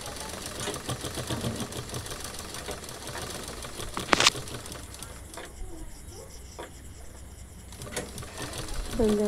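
Sewing machine stitching a finishing seam on fabric cut from old pants for a wall pocket, running in a steady mechanical chatter with brief pauses, fairly close and moderately loud.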